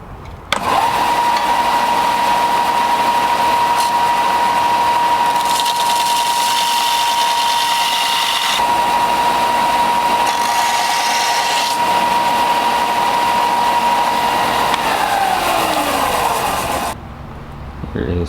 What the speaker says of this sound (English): I've got a big strip of aluminum that I am trimming up with a sander to fit into place.